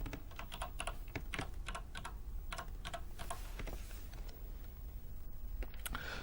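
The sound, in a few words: typing a name on the Quantel Editbox keyboard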